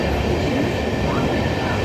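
An Amrit Bharat 2.0 Express on the Thiruvananthapuram–Charlapalli run rumbles along at speed while crossing a goods train, a loud, close, continuous rolling roar of wheels on rails.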